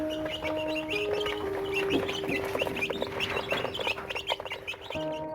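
Chickens clucking steadily in a busy flock, with scattered chirps over a constant low hum, no talking.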